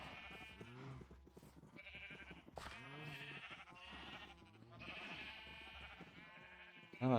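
Sheep in the video game Minecraft bleat repeatedly in a cluster of overlapping, wavering cries, close and fairly loud, continuing through the whole stretch with no talk.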